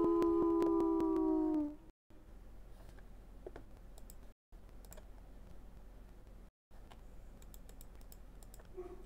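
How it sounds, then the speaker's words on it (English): Dogs howl in the Roblox video game: a loud, sustained howl opens the sequence and cuts off after about two seconds, followed by quiet, scattered keyboard typing clicks. "Oh, there goes the dogs."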